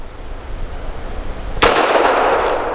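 A Grand Power LP380 pistol fires a single 102 grain brass jacketed hollow point round in a nickel plated case: one sharp, loud crack breaks a quiet, noisy outdoor hush and leaves a brief ringing tail.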